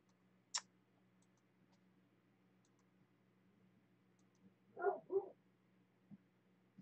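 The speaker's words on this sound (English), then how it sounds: "My doggy talking to me." A pet dog indoors gives a couple of quick, soft whining yelps close together, then a tiny click, all faint against a quiet room hum.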